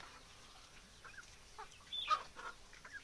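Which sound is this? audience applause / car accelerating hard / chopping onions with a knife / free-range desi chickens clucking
free-range desi chickens clucking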